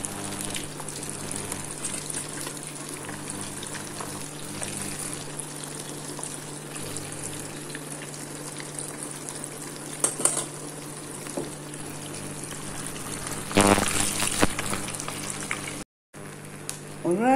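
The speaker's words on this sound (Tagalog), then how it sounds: "ito na po yung chicken wings ko, deep fried" Chicken wings deep frying in hot oil give a steady, dense sizzle and bubbling that runs throughout, with a few louder crackling bursts near the end.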